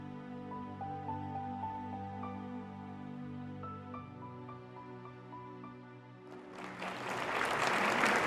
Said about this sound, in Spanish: Muchas gracias por sus aplausos